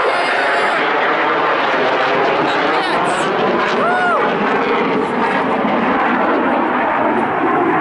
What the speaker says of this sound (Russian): Какие-то военные эти тренировки тут у нас. Самолеты, капец, оглохнуть можно.